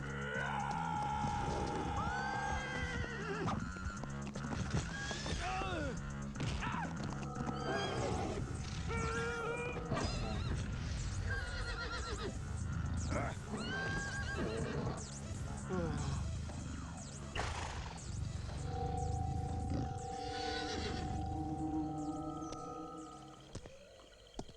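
Loud, drawn-out horse neighs and whinnies rise and fall over rumbling background noise in an animated film, with hoof sounds and a steady hum toward the end.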